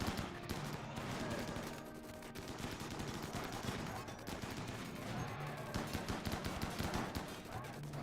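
Shredder turrets firing in Rimworld, rapid dense bursts of crackling automatic gunfire that keep going without a break, fairly faint and mixed with other battle noise.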